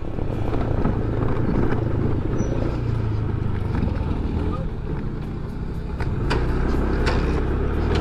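Motorized tricycles rumble along a rough road in a continuous loud engine drone with wind buffeting, the low throbbing steady throughout and a few faint rattles near the end.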